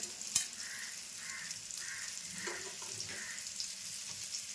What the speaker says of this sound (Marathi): सुरमई कशी पटकन भाजते, वेळ नाही लागत.